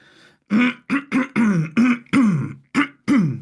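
A fit of about eight harsh, throaty coughs in quick succession, close and loud, separated by short gasping pauses.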